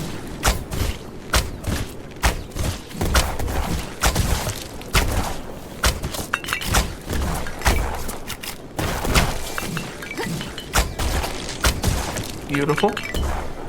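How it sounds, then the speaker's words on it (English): Rapid shotgun blasts in the video game Black Skylands, fired at enemies charging from one spot, come as loud repeated bangs with clinks and thuds, while a voice talks over the action. "Shotgun sure makes quick work of them when they are all charging at you from one location."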